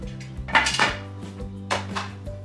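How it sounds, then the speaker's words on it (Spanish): A metal lid clanks down onto a stovetop pressure cooker holding cochinita pibil, two or three close, sharp metallic knocks and scrapes with a low steady hum underneath. "tapamos la olla."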